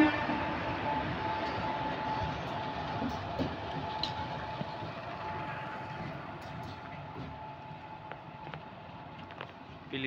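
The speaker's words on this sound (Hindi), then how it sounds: "ये आ गया इसका इंजन, अब ये दूसरी साइड लगेगा जाके" The locomotive of the Triveni Express moves at Pilibhit junction, producing a continuous rumbling train drone with faint rail clatter that holds steady and fairly loud before easing off slightly toward the end. No one speaks.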